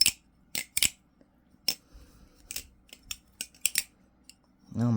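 Butterfly knife, a budget balisong clone of a TF2 design, being flipped, giving scattered sharp metallic clicks and clacks in irregular bursts with quiet gaps, close up, ending in a brief low thump.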